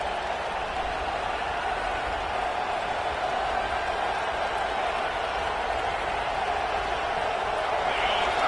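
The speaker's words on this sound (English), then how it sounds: "Listen to this crowd just shaking the girders of this place, trying to help their defense." Roaring stadium crowd noise from a Penn State game in the College Football 26 video game, a steady dense wall of cheering that holds at full volume for the whole stretch without a break.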